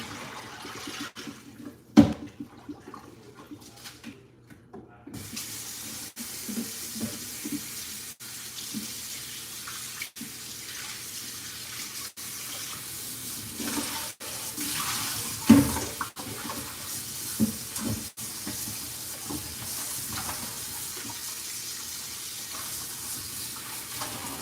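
Tap water runs steadily in a kitchen sink while mackerel is washed, a continuous broadband hiss with occasional sharper splashes and knocks, fairly close and with no talking.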